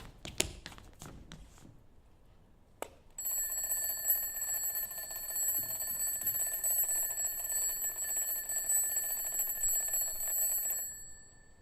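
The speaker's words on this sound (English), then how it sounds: "The alarm, is it working?" After a few sharp taps and a click, a mechanical alarm clock rings loudly and continuously for about eight seconds in a quiet room, then stops abruptly.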